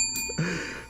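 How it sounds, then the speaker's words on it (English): A small joy bell rung once, a brief bright metallic ring with a lingering tone in a quiet room. "There's my Gosa bell right there."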